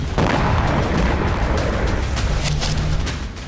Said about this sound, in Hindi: ड्रोन खिड़की के रास्ते कमरे में गया और फिर जोरदार धमाका हुआ।